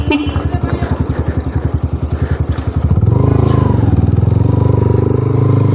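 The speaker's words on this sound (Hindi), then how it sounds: "मुझे बड़े ध्यान से यहाँ से बाइक उतारना पड़ेगा" A motorcycle picks its way down a rough off-road track near Thandiani, Abbottabad. The single-cylinder engine thumps in a slow, loud chug, then revs up into a denser, steady drone.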